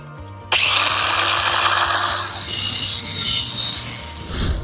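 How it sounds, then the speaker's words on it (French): A grinder cuts through a small protruding metal vise piece while building a chicken aviary, a loud steady rasping whine starting abruptly and running continuously before tapering off at the end. "Je vais couper le petit étau en métal là qui dépasse"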